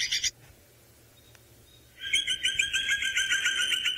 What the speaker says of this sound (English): It was a bearded woodpecker